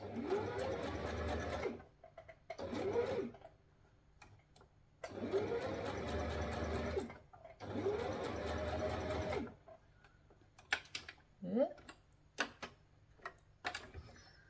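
Sewing machine stitching slowly in the ditch while making a dress, several bursts of rapid mechanical whirring and clatter separated by quiet pauses, with a few faint clicks near the end.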